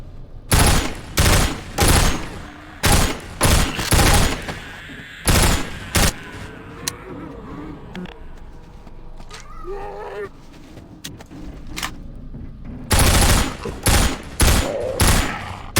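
Guns fire at zombies in Half-Life 2 VR, with loud close shots in quick clusters, a quieter stretch holding creaks and groans, then another rapid volley.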